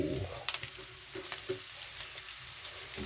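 String beans sautéing with dried squid in a hot pan, a steady close sizzle with scattered crackles and light stirring clicks throughout, no voices.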